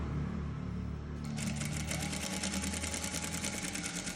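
Close and continuous, a sewing machine runs a seam along the neckline edge of an A-line frock, first with a softer hum, then with a brisker, rapid clatter of stitching and no voices.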